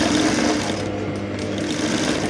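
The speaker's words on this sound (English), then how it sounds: "So you go over now and sew on the other side also." A sewing machine runs steadily, sewing boning channels into a dress with matching thread. The motor hum is loud and close and does not stop for the whole stretch, with no voices.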